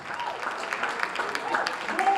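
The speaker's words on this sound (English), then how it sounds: "Give our moderator a round of applause and give our guest a round of applause." An audience at a live wealth-building community event applauds steadily, a dense wash of many hands clapping throughout with a faint murmur of voices.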